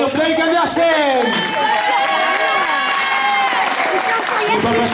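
A crowd at a pro wrestling show cheers and shouts loudly for wrestler Blake Andersen, a sustained roar of voices with whoops rising above it and commentators talking over the noise.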